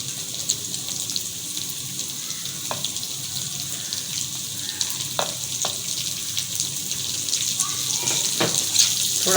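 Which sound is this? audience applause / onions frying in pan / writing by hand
onions frying in pan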